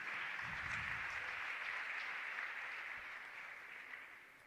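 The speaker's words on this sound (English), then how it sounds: "Come on, let's clap hands." A crowd at a campus community safety forum claps hands together in a sustained, fairly distant wash of applause that slowly fades, with no talking over it.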